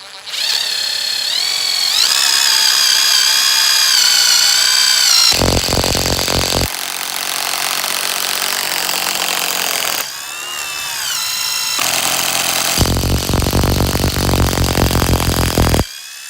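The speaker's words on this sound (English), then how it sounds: "let's turn around here and we'll go ahead and get drilling" A loud power drill whines and grinds in long continuous bursts while building a pig fence, the motor pitch shifting as it bites in, with brief pauses between runs.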